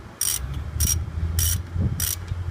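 Brake bolts on a 2008 Lexus RX350 being tightened with a ratchet: four short bursts of rapid ratchet clicking in an even rhythm, close by, over a steady low hum.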